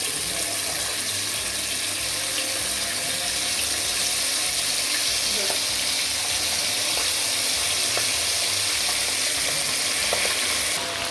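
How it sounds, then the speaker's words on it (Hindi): Chicken pieces fry in hot oil in a pan as part of a steamed chicken roast recipe, giving a loud, steady, dense sizzle and crackle that carries on unbroken with no voices. "ऑयल जो है ये गर्म हो चुका है, तो हम ये फ्राई कर लेते हैं चिकन को इस तरह से।"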